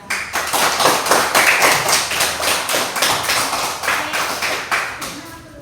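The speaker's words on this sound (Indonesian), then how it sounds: "tepuk tangan dua kelompok dua" Elementary school classroom clapping in a rhythmic pattern, loud and close, with regular bursts of many hands striking together in a steady beat for several seconds.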